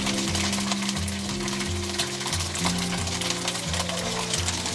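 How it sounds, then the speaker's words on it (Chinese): Pork slices pan-fry in cooking oil over medium-low heat, giving a continuous crackling sizzle up close, with faint tonal sounds like music running underneath. "保持中小火煎。"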